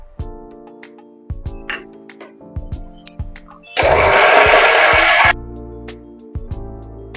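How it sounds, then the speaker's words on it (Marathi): A mixer grinder whirs loudly for about a second and a half, grinding a wet spice paste with a little water, set between quieter stretches of music. "आता आपण मिक्सर मधून वाटण वाटून घेऊया"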